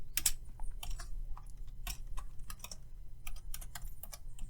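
Rapid, uneven typing on a computer keyboard while programming a PIC microcontroller, with sharp close key clicks in irregular bursts and no talking.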